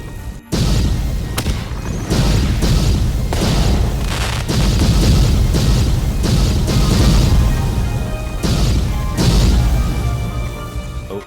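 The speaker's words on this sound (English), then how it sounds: "I did not expect that sort of big fire display" Fireworks boom over an exotic outdoor garden, a series of heavy deep blasts and crackling bursts following one another over several seconds, loud and continuous with a dense rumble between the bangs.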